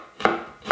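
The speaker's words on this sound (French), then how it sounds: "je prends mon oignon que je vais émincer" Knife slicing an onion on a board, two separate close cuts about half a second apart, with no talk.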